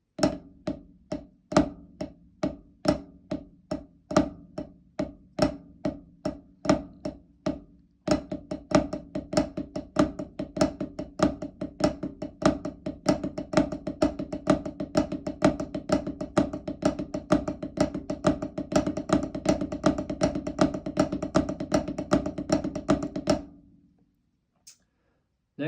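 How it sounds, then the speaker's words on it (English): Drumsticks play the flam accent rudiment on a drum, a crisp, close run of grace-noted strokes in a repeating accented pattern that starts looser, then settles into a dense steady stream before stopping cleanly. "Next is the flam accent."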